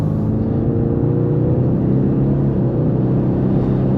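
A 2024 Ford Mustang EcoBoost Premium convertible accelerates hard at night, its turbocharged engine building into a loud, steady, close-up drone that holds strong for several seconds.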